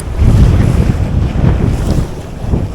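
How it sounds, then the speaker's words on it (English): Gusty wind blowing across the Swan River in Perth, a loud buffeting roar against the microphone that swells and eases in waves with no voices. "Look at the wind."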